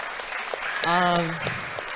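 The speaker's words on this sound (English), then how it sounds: "So round of applause for that." Audience applause at an Australian jiu-jitsu fight night, steady broadband clapping through the whole moment, with a voice calling out briefly over the crowd.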